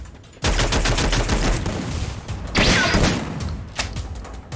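Gunfire from the Free Fire battle royale game, loud bursts of rapid shots cracking in quick succession after a brief quiet start, with a second heavy volley near the middle and another sharp burst toward the end.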